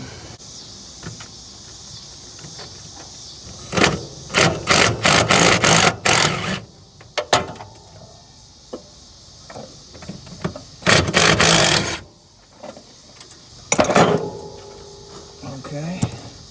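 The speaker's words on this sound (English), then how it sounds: "maybe we can loosen it up and then use our little fancy dancy impact" An impact wrench works on a bolt on a Ford F100 shortbed pickup, firing in several short loud rattling bursts separated by pauses, with quieter clinks and shop noise between.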